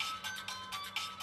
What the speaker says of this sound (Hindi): मेरे आदमियों का फोन आया है।